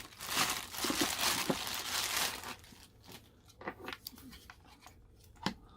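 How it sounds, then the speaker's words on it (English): Plastic packaging around an Amcrest UltraHD 5MP PoE IP camera crinkles loudly and continuously up close as it is unwrapped, then gives way to quieter scattered rustles and handling taps, with no talking. "We'll just do a quick little unwrap."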